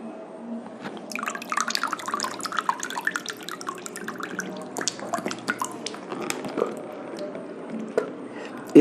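Water from a nasal cleansing rinse drips and trickles into a vessel in a steady, close, wet patter with small splashes throughout.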